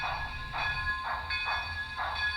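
An HO scale Broadway Limited Imports die-cast 2-8-0 Consolidation model steam locomotive with Paragon 3 sound, giving steady rhythmic chuffs about twice a second over a constant hum and hiss.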